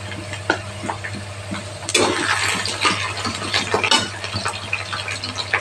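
Chili powder spices being mixed with a little water in a kitchen, with wet stirring and sloshing sounds, clinks and a steady low hum underneath, growing busier midway.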